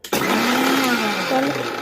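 A blender whirs loudly in a short burst, its motor pitch shifting slightly as it churns thick homemade mayonnaise.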